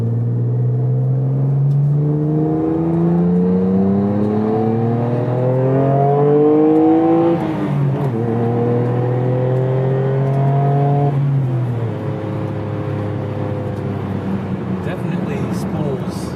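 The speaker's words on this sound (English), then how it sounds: "See how well it revs through the RPMs." A Nissan Skyline GT-R R33 V-Spec engine revs hard through its range in a series of rising pulls with turbo, loud and close, dropping back between climbs, while someone talks over it.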